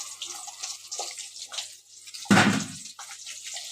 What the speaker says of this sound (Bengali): জলটা ঢেলে দিলাম লাউতে